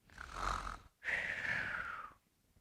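A voice imitates snoring: two long, rasping snore sounds, the second louder and drawn out, close up with a short silence between.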